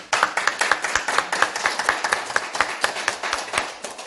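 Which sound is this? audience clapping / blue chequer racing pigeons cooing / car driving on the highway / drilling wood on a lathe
audience clapping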